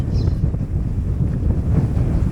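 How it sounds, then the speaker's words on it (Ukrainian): Strong wind buffets the microphone on a lake during a fishing trip, a steady loud low rumble with gusting texture that fills the whole stretch, no talking. "Подув хороший вітерець."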